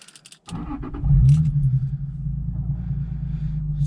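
A Lexus IS300 with an aftermarket exhaust and cold air intake cranks and catches after a few faint clicks, with the windows closed, then settles into a deep, steady, throaty idle rumble close by.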